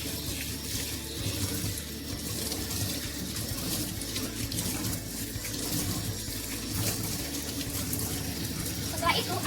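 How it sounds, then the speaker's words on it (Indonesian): Running tap water pours steadily over both hands and forearms up to the elbows during a clinical handwashing rinse, a continuous close splashing stream with no break. "bilaslah kedua tangan menggunakan air mengalir hingga ke siku."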